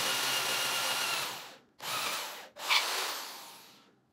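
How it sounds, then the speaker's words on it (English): A power drill fitted with a 1/2 inch bit bores into a school bus side panel in three loud, close bursts of whining, grinding noise, separated by two brief pauses, with no talking. "Okay, we got my 1/2 inch drill bit. Let's go."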